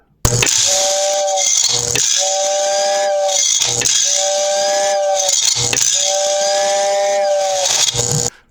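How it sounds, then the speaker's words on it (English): A loud, steady Lionel electric toy train whistle blows in four long, even blasts with short breaks, a hissing airy tone over a soft mechanical whir. "which pushes the air through the whistle chamber and out here, and that gives us our whistle sound"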